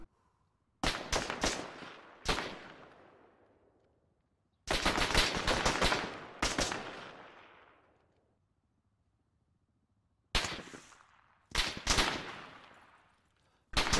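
Bursts of automatic gunfire in a military video game arrive in clusters of sharp, rapid shots, each burst trailing off into a decaying echo, separated by stretches of near silence.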